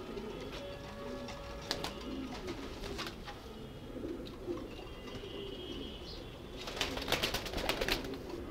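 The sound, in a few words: racer pigeons cooing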